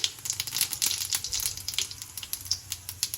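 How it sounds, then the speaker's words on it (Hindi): Cumin seeds, about a teaspoon, frying in roughly four spoons of hot oil for a potato and garlic curry, giving a steady close crackling sizzle with fast popping ticks throughout and no talk. "तेल गरम हो गए तो एहिमे अब हम जीरा डाल दै छियै 1 चम्मच के आसपास।"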